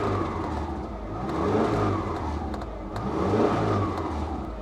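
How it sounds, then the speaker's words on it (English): Subaru Outback engine revved while parked, two smooth swells of rising and falling engine roar over a steady idle hum, close and fairly loud with no talk. "Give it a little rev."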